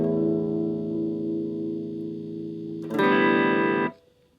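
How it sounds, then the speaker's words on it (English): An electric guitar through a Boss DS-1 distortion pedal holds a sustained, buzzing distorted chord that rings for about three seconds, then jumps to a louder, brighter chord that cuts off abruptly into silence. "the DS1, my distortion pedal or my high gain pedal"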